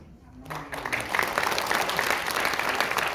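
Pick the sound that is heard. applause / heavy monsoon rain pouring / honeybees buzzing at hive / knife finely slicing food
applause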